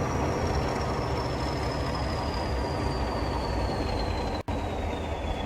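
A Class 40 diesel train coasts in Train Simulator Classic between Ipswich and Shenfield, giving a steady, loud rumble of wheels on rail with a thin high whine slowly falling in pitch and one brief dropout near the end.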